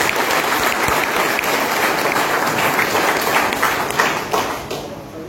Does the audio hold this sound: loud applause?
yes